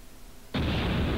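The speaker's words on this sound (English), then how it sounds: "Rocket launcher!" A rocket launcher explosion in Breath of Fire: Dragon Quarter bursts in abruptly after a quiet moment, a loud, broad blast that holds as a dense roar to the end.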